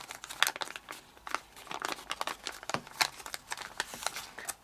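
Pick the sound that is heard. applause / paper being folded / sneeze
paper being folded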